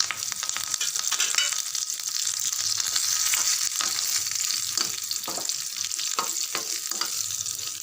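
Vadagam and curry leaves fry in hot oil on low heat as a tempering for ground-paste fish curry, giving a loud, steady sizzle with frequent crackles and pops from stirring.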